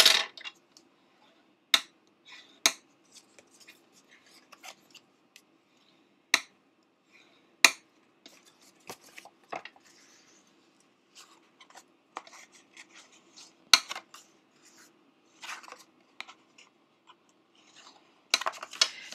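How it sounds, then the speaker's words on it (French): A bone folder scores folds in a paper card for a 3D greeting card, making sharp, close taps and scraping strokes scattered irregularly against near silence. "je vais prendre mon plioir et je vais marquer mes plis"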